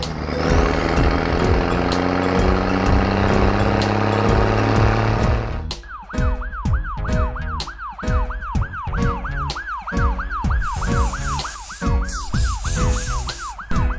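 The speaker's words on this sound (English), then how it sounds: "Ambulance." A toy-vehicle ambulance siren wails in a rapid, repeating up-down warble over a rhythmic clattering beat, following a stretch of steady buzzy music; loud and close, with no speech.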